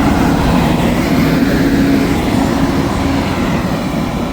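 A Pendolino electric train passes through Stockport station, a steady loud rumble and hiss of a train moving close by, with no voices.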